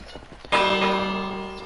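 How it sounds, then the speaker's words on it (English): A bell at a village well in Minecraft is struck once, giving a sudden loud metallic clang that rings on and slowly fades, after some faint background noise. "I'm gonna hit a bell that's at the well"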